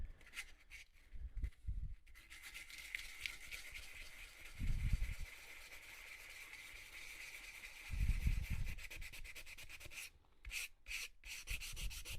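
Sandpaper scrubbed hard in small circles over a wooden fretwork piece to remove deep scratches, a steady close rasping rub with short louder strokes and brief pauses.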